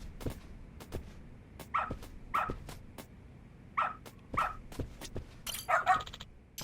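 A dog in the video game Lost Judgment gives a handful of short, separate barks and yips over soft background ticks and thumps, clearly audible but not loud.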